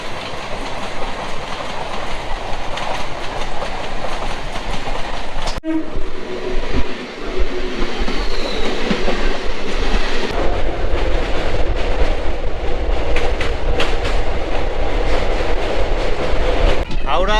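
Maa Tara Express passenger train running on rails on the line toward Bolpur, a loud close rumble of wheels with a sharp horn blast near the start and steady clatter throughout.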